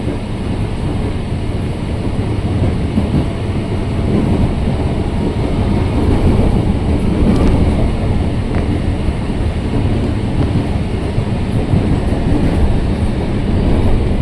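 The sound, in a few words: KRL commuter train running on rails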